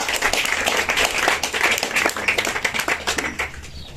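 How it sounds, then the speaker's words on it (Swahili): A small group applauding to celebrate a YouTube silver award button: dense, steady hand clapping for the full four seconds, close and fairly loud, easing slightly toward the end. "Tumpigieni makofi jamani."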